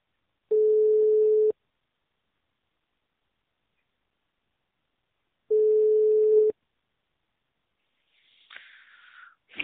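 Telephone ringback tone during a call transfer: two long steady electronic rings separated by several seconds of silence, heard close over the line, followed by a brief scratchy rustle.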